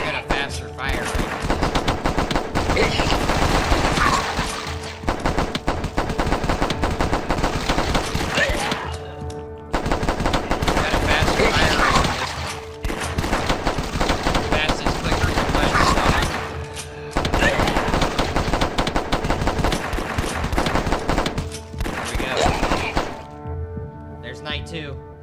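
Rapid, loud gunfire from a zombie survival video game, fired in long sustained bursts with short pauses between them and a player talking over the shots.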